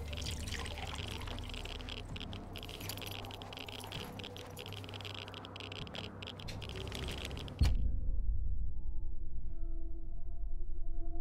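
Water is collected at an oasis in Wasteland 2, with a steady rushing, trickling flow that cuts off abruptly about two thirds through, leaving a low hum behind.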